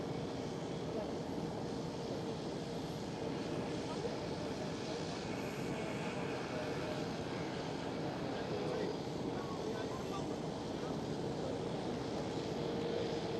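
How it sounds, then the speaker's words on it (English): A China Cargo Airbus A330 passenger-to-freighter conversion taxis for departure at Amsterdam Schiphol, its engines a steady, broad jet rumble and hiss holding at an even level throughout without letting up. "I see China cargo A330 passenger to freighter taxiing towards us as well for departure."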